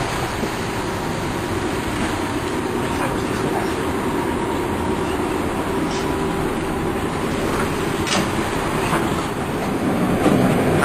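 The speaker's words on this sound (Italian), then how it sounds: "Saliremo tutti sul tram per andare al Bencivenga." A tram rolls along its rails in a continuous loud rumble, with rhythmic clicks and scattered squeals over about eleven seconds, heard from on board.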